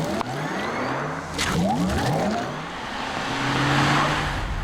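A 2020 Porsche Taycan Turbo electric car accelerates with a rising, whirring electric-motor whine that climbs in pitch, joined by road and wind noise, moderately loud and without speech.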